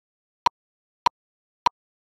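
Three metronome clicks at 100 beats per minute with a half note taking the beat, evenly spaced about 0.6 seconds apart, sharp and isolated against silence.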